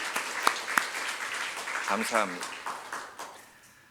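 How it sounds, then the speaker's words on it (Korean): A church congregation claps during an evening revival service, a sustained patter of many hands with a few sharper claps standing out, fading toward the end as a voice speaks briefly over it. "우리 한번 힘차게 하나님 영광 올려드리는 박수 한번 치십시오"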